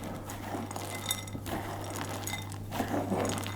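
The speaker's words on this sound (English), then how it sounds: "chips and the nuts, the hazelnuts, into the flour, and then I'm just going to stir it around" A spoon scrapes and clinks against a bowl, stirring chocolate chips and hazelnuts into flour in close, irregular strokes over a low steady hum.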